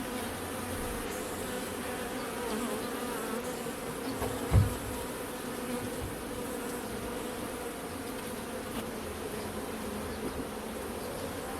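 Honey bees buzzing steadily around an open hive during an inspection, a soft continuous drone of many insects nearby with one brief knock partway through and no talking.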